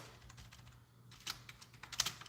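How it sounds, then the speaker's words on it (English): Keys clatter on a cheap computer keyboard in a shop, a quick irregular run of light taps that gets louder with a few sharper strokes toward the end, close by and with no talking over it. "It's hard using this keyboard."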